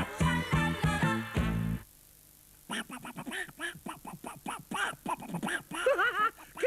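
A Spanish-speaking voice imitates a duck, quacking in a quick series of nasal, warbling calls after a short burst of music.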